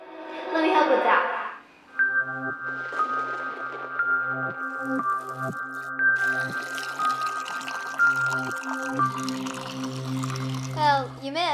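Water poured into a container, starting with a loud splashing burst and then a long ringing, rising trickle, as a child and an adult talk over it.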